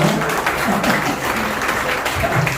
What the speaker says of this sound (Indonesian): teman-teman, tepuk tangan dulu dong DJ yang luar biasa